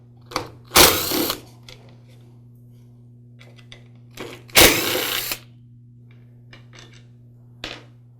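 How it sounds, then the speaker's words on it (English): Screws being removed from the motor housing of a DeWALT DW718 miter saw: two loud bursts of driver whir, each about half a second, near and clear over a steady low hum, with faint clicks and rattles between them. "I'll go ahead and remove those screws now"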